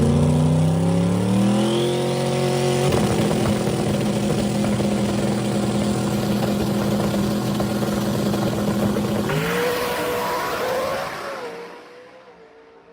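A turbocharged drag racing car at Cecil County Dragway revs and launches with a loud, rising engine roar that climbs in pitch, holds a harsh sustained blast for several seconds, then fades away as it speeds off, with no talk.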